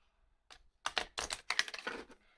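A quick run of soft, crisp clicks and flutters as cards are riffled and shuffled close by, bunched in a brief, uneven burst.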